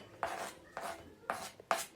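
A knife chops through fresh dill on a board while a light summer salad is prepared, four crisp, separate strokes spaced about half a second apart, close and fairly quiet.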